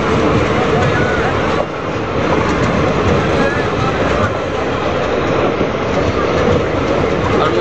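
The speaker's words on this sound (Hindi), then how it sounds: "जयनगर भागलपुर एक्सप्रेस जो कि भागलपुर जा रहा है" The Jaynagar Bhagalpur Express passes at close range, giving a loud, steady rumble with rail clatter that fills the whole stretch without a break.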